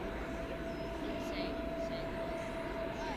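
An airliner takes off from a runway at DFW Airport, heard as a continuous, steady roar of jet engines with broad rumbling noise throughout and no break.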